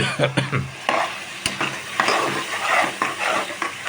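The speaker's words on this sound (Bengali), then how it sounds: "সিদ্ধ করার পরে মাংসগুলো দিয়ে দিব।" Meat and onions fry in oil, a loud, close sizzle broken by repeated scraping and clinking from a spoon stirring the pan.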